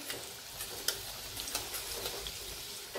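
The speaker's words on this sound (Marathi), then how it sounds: "व्यवस्थित असे तेलामध्ये तळून घ्यायचे." Koftas frying in a little hot oil over a lowered flame for kofta curry: a soft, continuous sizzle with scattered crackles and pops, fairly quiet and close, without talk.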